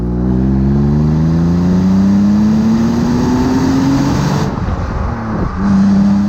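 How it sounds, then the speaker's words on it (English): A BMW Z3 roadster's six-cylinder engine revs up steadily, its pitch climbing smoothly over several seconds before easing off, then picking up again, loud and close with a sustained mid-range drone. "we have a 6-cylinder that sings beautifully when you push on the gas pedal"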